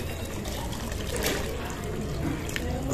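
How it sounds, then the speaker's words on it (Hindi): Water pours steadily into a tilapia fish tank system, a continuous splashing, trickling wash that stays even throughout, close by and moderately loud with no voices. "अब मैं डाल दूँ फिर से पानी"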